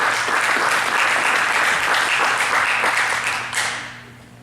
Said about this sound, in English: Round of applause for our staff.